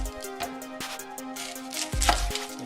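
A kitchen knife chopping onion on a board, irregular crisp taps spread across a few seconds with a heavier thud near the end, over a steady low background hum.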